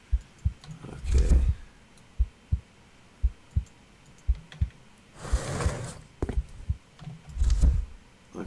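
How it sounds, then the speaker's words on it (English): Heartbeat sound effect in a horror video game: soft low thumps in a slow, irregular rhythm, alternating with louder bursts of broadband rumble, with no talk. "Okay, I can hear a heartbeat."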